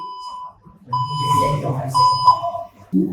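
An electronic buzzer on a traffic light circuit demo with green, yellow and red LEDs and a push button sounds a steady tone in bursts, heard clearly with a voice talking over it.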